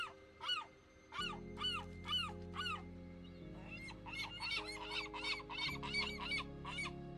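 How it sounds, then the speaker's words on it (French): Gulls squawk in a flock fighting over scraps of flesh on rocks, harsh repeated calls in quick bursts, some overlapping, over a steady sustained musical drone. "Une nuée de mouettes se battait"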